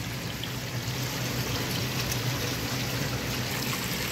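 Water runs steadily through a gold prospecting sluice box, washing over the riffles with material from Clear Cut Creek, a continuous near rushing trickle with no talk.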